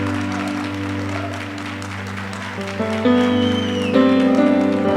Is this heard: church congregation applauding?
yes